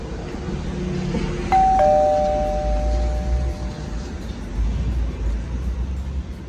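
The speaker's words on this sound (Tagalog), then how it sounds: "Doorbell." A two-tone electronic doorbell chime rings once, clear and fairly close, over low background rumble and faint distant voices.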